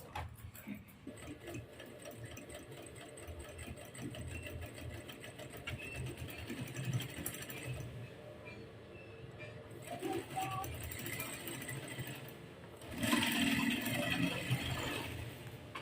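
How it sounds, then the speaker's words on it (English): Sewing machine stitching a curved seam on a structured sleeve, a steady faint mechanical whirring and ticking run that pauses briefly and resumes, with a louder burst near the end. "So I'm going to sew in a curving manner down to this point."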